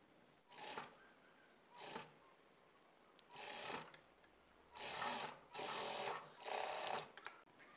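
A sewing machine stitches a blouse piece with a quarter-inch margin in several short bursts of whirring, pausing between runs, fairly quiet and close.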